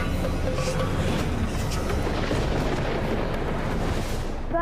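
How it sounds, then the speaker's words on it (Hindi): Bomb blasts in the Hindi mythological TV drama Shani: a continuous, dense roar of explosions and rumbling booms fills the whole stretch, loud and sustained, with no speech over it. "कितना बम मारेंगे, इलाका धुआं कर देंगे।"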